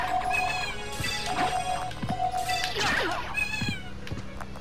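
Cats meow repeatedly amid game sound effects in Castlevania: Symphony of the Night, witches' cats yowling loudly with sharp crashing hits and chiming tones, several overlapping cries over about four seconds.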